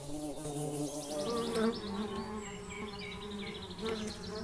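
Honeybees buzz steadily as they leave the hive in search of nectar and pollen, a dense close swarm drone with overlapping wingbeats and a few louder passes, continuous throughout with no talk.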